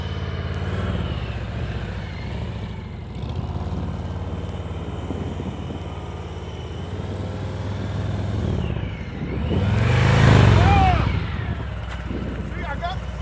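Motorcycle engine during a slow-speed riding practice session, idling low and steady, then swelling into a louder rev as the throttle opens around the tenth second before settling back, with voices talking over it.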